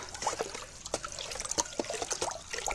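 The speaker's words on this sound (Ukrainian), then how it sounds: "Зараз виливаю сюди." Dissolved solution trickling and splashing as it is poured from a 100-gram glass into water, a close, soft run of irregular drips and splashes with no talking.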